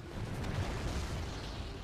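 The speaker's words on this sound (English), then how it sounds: "More explosions." Rumbling explosions from the video game Resident Evil 6 roll on as a continuous low boom for about two seconds, dense and steady with no clear separate blasts.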